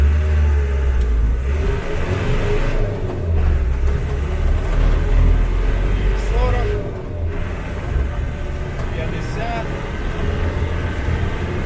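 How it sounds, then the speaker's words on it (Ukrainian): A UAZ 469 fitted with a Ford Transit 2.5 diesel engine pulls away hard in first gear, a loud, steady low rumble of the diesel under way with cabin noise throughout. "Так, то просто першу передачу і погнали"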